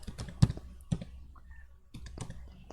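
A few sharp key clicks in short bursts separated by pauses, close and fairly quiet, like someone typing on a keyboard.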